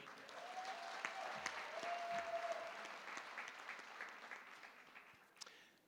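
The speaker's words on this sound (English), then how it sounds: "Let's clap for them." A graduation audience in Keetmanshoop claps steadily through the whole stretch, a dense crowd-wide applause with a brief whistle-like tone near the start and a few louder individual claps toward the end.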